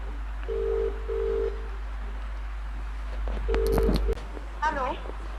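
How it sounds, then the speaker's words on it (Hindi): A phone call is placed with a steady dialing tone, then a quick run of DTMF keypad beeps and a burst of warbling tones, with faint background hum. "तो आइए हम फ़ोन करते हैं।"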